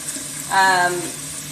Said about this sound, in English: Again, I start with cold water. I fill them up just over the eggs.